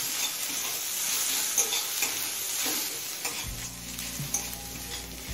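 Onion frying in a pan with crushed cardamom, cinnamon and cloves for beetroot chicken curry, with a dense continuous sizzle and stirring scrapes close by, plus a low steady hum joining in the second half, no speech.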